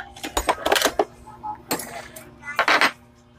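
Sharp crackling and snapping bursts of sparks from a DIY transistor-type fish stunner, coming in irregular clusters of several rapid zaps with brief pauses, close and fairly loud against a low steady hum.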